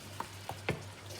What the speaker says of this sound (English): stir it really well.